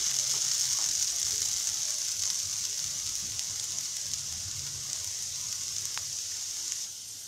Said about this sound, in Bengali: খুন্তি দিয়ে আলুটাকে আবার একটু নেড়ে চেড়ে দিই।